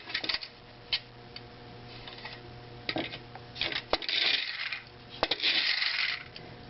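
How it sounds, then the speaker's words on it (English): Japanese tin litho friction-driven jalopy toy running, a quiet metallic whir broken by sharp ticks, clicks and rattling bursts close by, with no talk. "So I'll just try to see if you can hear him running there."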